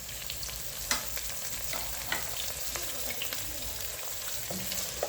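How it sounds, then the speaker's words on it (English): Boiled beef hits frying golden-brown onions for a Kenyan beef pilau, giving a continuous soft sizzle broken by occasional spoon clicks and stirring scrapes, fairly quiet with no voices. "I will add meat now. Remember, our meat was already boiled."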